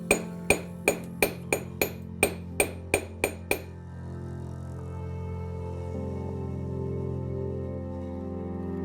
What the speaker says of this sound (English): I'm just stretching the volume of material towards the tip. So this is called forging because once it's hit